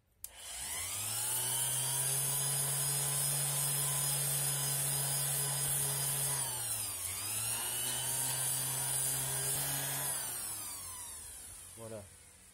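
A loud power sander whines steadily for about ten seconds sanding a metal scooter fork, dipping briefly in pitch midway, then winds down near the end.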